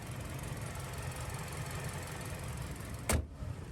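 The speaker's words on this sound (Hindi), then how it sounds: "तो ये था mini twin power turbo petrol engine." A 2021 MINI Cooper S Convertible's BMW B48 TwinPower turbo petrol engine, rated 192 horsepower, idles with an even, low, quiet hum, broken near the end by a single sharp click.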